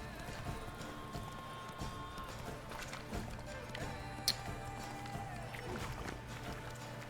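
Horse hooves galloping in The Witcher 3, a steady rapid clip-clop of a running horse under game music and effects, with a brief sharp clink midway and a faint voice in the background.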